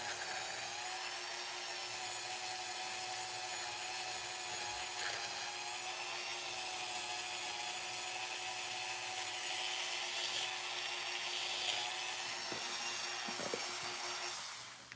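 A small wooden piece, its centre shaft being thinned, is cut by hand with a saw, giving a steady, unbroken rasping that runs close and even for the whole stretch with no talk over it.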